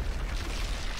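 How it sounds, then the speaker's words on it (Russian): Explosions in the video game Call of Duty: Modern Warfare 3, a dense continuous rumbling blast with heavy low-end boom, loud and sustained, no speech. "Фига тут взрывы."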